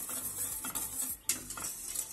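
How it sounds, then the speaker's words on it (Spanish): A spoon stirs homemade beer jam boiling in a pot, with irregular scraping and clinking strokes against the metal and a soft bubbling hiss underneath, close and moderately loud. "Así que vamos a ir removiendo"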